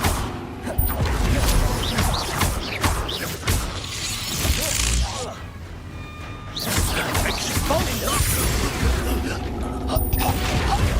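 Confringo blasting spell explosions in the Hogwarts Legacy video game, sharp shattering bursts and booms cracking out amid clattering combat mechanics, with a voice speaking intermittently underneath.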